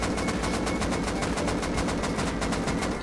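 Sustained automatic gunfire from a weapon in the Rust video game, a loud continuous stream of rapid shots with no pauses.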